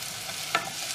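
Leftover marinated chicken stirred with salt in a hot pan, steady sizzling broken by one short scraping clatter of the utensil midway, close and without talk.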